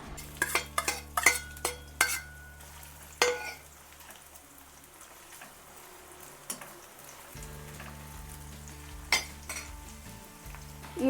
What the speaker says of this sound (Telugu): ఆయిల్ అయితే హీట్ అయింది సో నేను ఇప్పుడు ఆనియన్స్ అయితే వేసేస్తున్నాను ఆయిల్లో